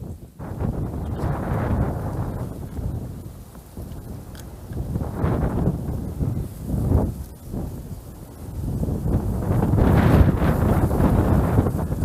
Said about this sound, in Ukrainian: Ось зараз задув вітер, дивіться, зразу шнур видуває